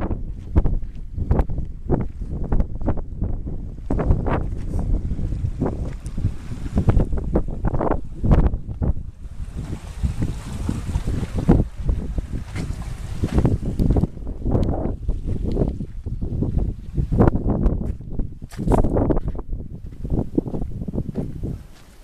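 Gusty wind buffets the microphone in heavy, irregular low thumps and rumbles, continuous and close throughout.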